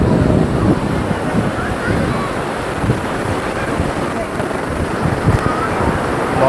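Strong ocean surf at Malpe beach near St. Mary's Island, a loud, continuous roar of crashing waves mixed with heavy wind buffeting the microphone, no clear pauses.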